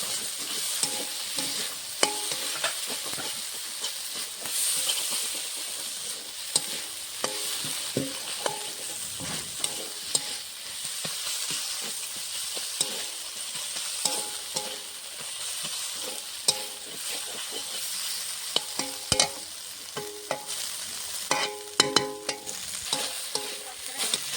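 Taki fish frying in a pan with onion and garlic gives a continuous soft sizzle, punctuated by frequent scraping and tapping strokes of a spatula throughout, close and fairly quiet, with no speech.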